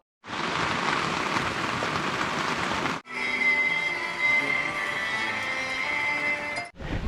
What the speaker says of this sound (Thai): ฝนตกแบบไม่เกรงใจใคร เราก็เลยจำเป็นจะต้องอยู่ในเต็นท์